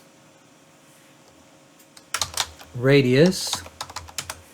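Quick, close taps on a computer keyboard, a burst of crisp clicks around a single spoken word, fairly loud against a quiet room.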